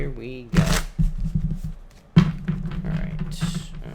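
Tarot cards shuffled by hand for a pick-a-card reading, giving bursts of riffling and tapping close by, with a sharp flurry early and another midway, while a person talks throughout.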